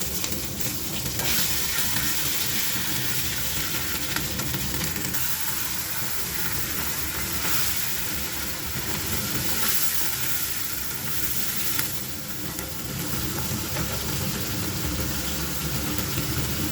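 Ginger paste frying in a pan with panch phoron and bay leaf, a loud, continuous sizzle and crackle that holds steadily for the whole stretch with no voices over it.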